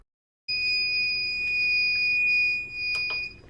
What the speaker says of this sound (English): it'll make this long beep when it's done